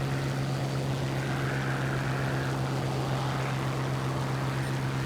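The propeller engine of a Mustang Mk Ia fighter plane in War Thunder drones steadily, a continuous loud hum with a wash of airy noise, unbroken throughout.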